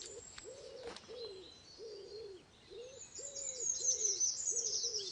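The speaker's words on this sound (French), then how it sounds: "La chevêchette d'Europe, quant à elle, s'installe dans les trous creusés par un pic." A Eurasian pygmy owl in Carpathian mountain forest gives a series of evenly spaced, clear whistled hoots, about seven to eight in a row, while fainter high bird twittering rises behind.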